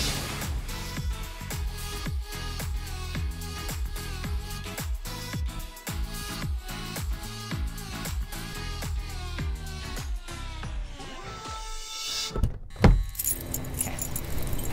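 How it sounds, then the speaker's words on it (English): Keys jangle and clink inside a purse as someone rummages through it, a near, continuous metallic rattling with irregular rustles over several seconds and a sharper clatter near the end. "My keys are buried in my purse."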